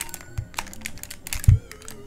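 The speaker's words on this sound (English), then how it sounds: "it's really tight, it kind of jumps back into place really quickly because of those micro switches in there. And the clicking's nice as well." Sharp irregular clicks from the micro switches of an Amiga / Commodore 64 joystick, close and crisp, tapping in quick uneven bursts during play with no talk.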